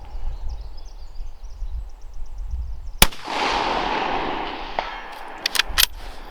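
A single sharp, loud shot from a Savage Axis II Precision bolt-action rifle in .223, cracking once and leaving a broad, trailing echo across an outdoor range, with a few faint clicks afterward.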